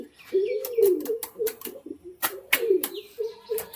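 A pigeon of the Kalanka Madras breed cooing in repeated low throaty phrases, close and clear, with sharp clicks and wing or cage knocks in between.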